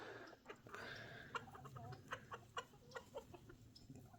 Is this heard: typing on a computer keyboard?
no